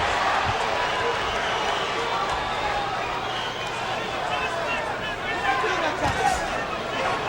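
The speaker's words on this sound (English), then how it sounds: "Crowd chanting, Oscar, Oscar," Arena crowd at a title boxing bout between Oscar De La Hoya and Pernell Whitaker in the Thomas & Mack Center, a dense continuous roar of voices with rhythmic chant swells running steadily throughout.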